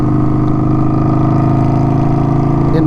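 An Indian Scout Bobber motorcycle engine runs in neutral at a stop with the throttle held, giving a loud, steady, close drone that holds its pitch throughout.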